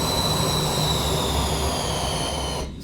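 Exterior jet engine roar from a Carenado Premier 1A business jet in a flight simulator, a steady loud broadband rush with sustained high whining tones over a low rumble, cutting off abruptly near the end.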